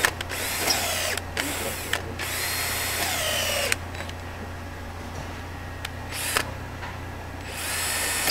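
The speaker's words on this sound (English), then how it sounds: "Don't get that drill bit in there to start spinning that rivet." A power drill whirs steadily and close, drilling out a rivet on a skid plate, with brief pauses and a change in pitch as the bit bites through metal; no talking.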